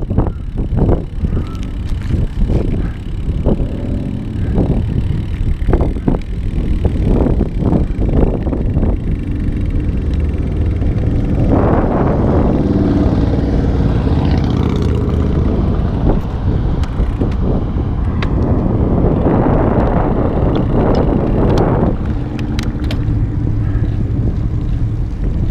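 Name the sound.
wind noise while riding a Kestrel road bike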